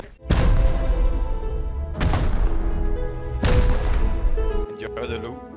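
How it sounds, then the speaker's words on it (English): Three heavy rocket-launcher explosions in the survival video game Rust, each a loud, close blast with a decaying rumble, spaced about one and a half seconds apart, followed by a brief quieter rattle. "He tried to shoot me with a rocket launcher."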